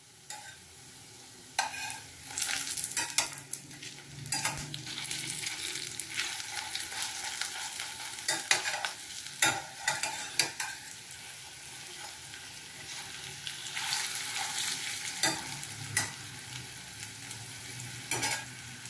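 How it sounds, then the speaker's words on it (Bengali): Pea lentil fritters frying in hot oil over low to medium heat, with a continuous close sizzle and frequent scraping and stirring clicks as they are turned, heard with no speech. "গরম তেলে বড়াগুলোকে দিয়ে দিয়েছি। এবার আমি এগুলো লো টু মিডিয়াম হিটে এগুলোকে ভেজে নেব এপিট ওপিট করে।"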